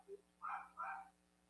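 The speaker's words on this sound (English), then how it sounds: "The dog barking?" Two short, muffled barks from a dog, apparently somewhat distant and faint, following a small yip, set against a quiet room hum on a live broadcast.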